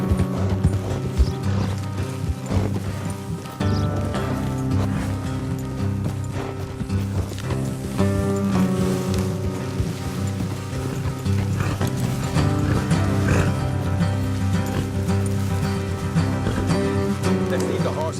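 Rhythmic clip-clop of trotting horse hooves in the video game Red Dead Redemption 2, under a musical score, with a horse whinnying and some talking mixed in throughout.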